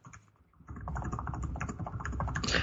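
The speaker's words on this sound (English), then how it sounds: "That was me typing." Soft typing on a computer keyboard: a near-silent start, then a steady run of rapid, close key clicks that grows slightly louder toward the end.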